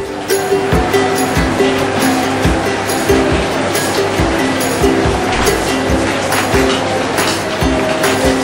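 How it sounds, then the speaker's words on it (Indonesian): Shredded agar-agar being stirred in a pot, a steady, rhythmic scraping and sloshing that repeats loudly and close up for the whole stretch. "Ini akan terus kita aduk supaya menyebar dengan baik ya teman-teman."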